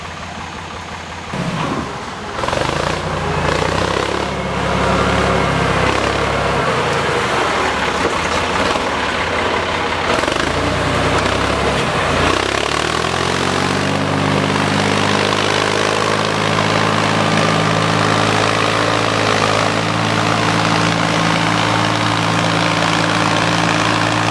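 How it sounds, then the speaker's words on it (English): A tractor's loud diesel engine rumbles steadily while plowing a field, revving up early then settling into a strong, continuous drone up close. "So we'll get on the tractor and see how it's going to plow."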